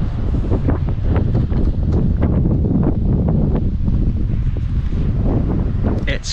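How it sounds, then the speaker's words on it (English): Strong wind on Chatham Island buffeting the microphone, a loud continuous low rumble with gusty fluctuations throughout, on a warm windy walk outdoors. "It's not cold, it's warm, but just windy."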